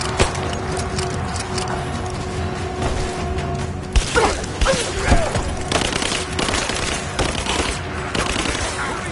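Sustained gunfire from the video game Rise of the Tomb Raider, dense bursts and sharp individual shots over a steady battle din, with voices faintly calling out underneath.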